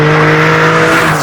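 Maserati MC20 Cielo V6 fitted with a Novitec exhaust, giving a loud, close, sustained engine drone at steady revs.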